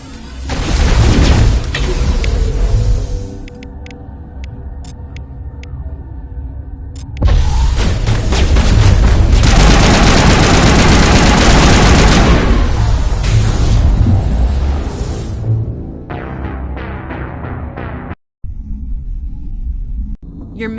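Heavy gunfire and explosions in a Mass Effect firefight against Geth, loud sustained booming bursts and rumbling blasts that rise, drop and surge again, dense and close.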